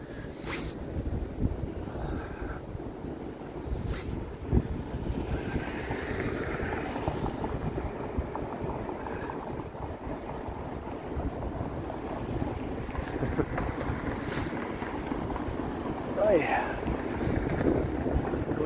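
Steady wind buffeting a microphone outdoors on a downtown Toronto evening walk, a continuous loud rumbling roar that runs the whole time with faint background sounds.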